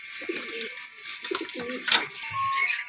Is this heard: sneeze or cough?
no